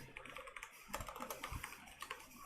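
Quiet, quick typing on a computer keyboard while writing code for a neovim file manager plugin, with irregular clusters of keystrokes and no voice.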